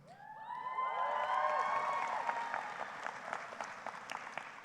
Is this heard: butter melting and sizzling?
no